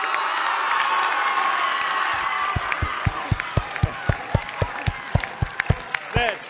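A high-school gym crowd of students cheers and yells loudly for an arriving governor, a sustained roar that gives way to a steady rhythmic clapping chant of evenly spaced beats, with shouts mixed in.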